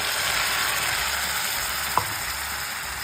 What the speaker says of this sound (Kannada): ರುಬ್ಬಿಟ್ಕೊಂಡಿರುವಂಥ ಮಸಾಲೆ ಇದಕ್ಕೆ ಹಾಕ್ಕೋಬೇಕು